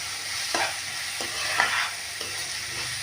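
A spoon stirs roasted masala with chili powder, Kashmiri chili powder and turmeric in a pan for dhaba-style egg curry. Regular scraping strokes about every second or so sound over a constant low sizzle.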